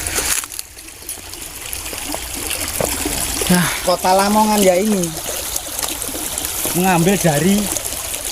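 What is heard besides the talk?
water flowing in the Lamong River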